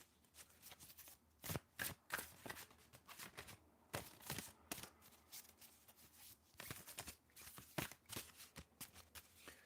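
Tarot cards are shuffled right beside the microphone, giving crisp, loud riffling bursts in an irregular rhythm with short quiet gaps between them, and no talking.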